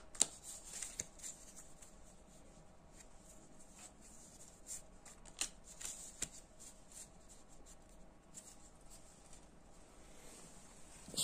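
Cards for a solo wargame on the Kharkov campaign are shuffled by hand, a faint run of soft riffles and papery snaps with a few sharper taps in a quiet room.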